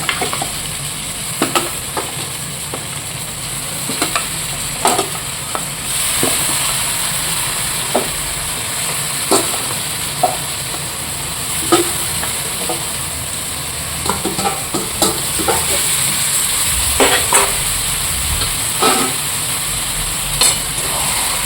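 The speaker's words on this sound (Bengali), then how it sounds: "এবার মাংসগুলো দিয়ে দেবো" Meat sizzling and frying in a pan, a steady loud hiss of hot oil with scattered pops and stirring scrapes over about twenty seconds, no talking.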